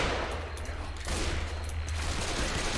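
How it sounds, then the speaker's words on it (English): A sniper rifle in the zombie shooter Left 4 Dead 2 fires at a zombie, a sharp loud crack followed by dense rattling gunfire and a low rumbling background, with no voices. "shooting a zombie with this fucking sniper rifle just blows out its entire chest"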